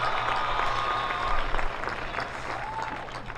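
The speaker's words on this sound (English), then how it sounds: "If we could give everyone a big round of applause for a quick" A crowd at a high school graduation ceremony for the class of 2022 gives a dense round of clapping that swells slightly midway, then tapers toward the end.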